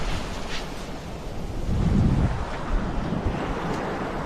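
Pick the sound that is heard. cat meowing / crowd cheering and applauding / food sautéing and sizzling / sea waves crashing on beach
sea waves crashing on beach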